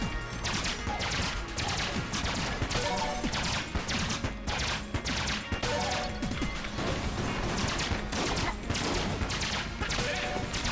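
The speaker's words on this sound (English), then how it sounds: "I tried to shoot the decoy to explode it, but because of homing bullets, it dragged the shots away" Shots fired at a decoy in Enter the Gungeon, with homing bullets pulled toward the target. A dense, continuous barrage of crashing, whacking game gunfire plays loud and steady throughout.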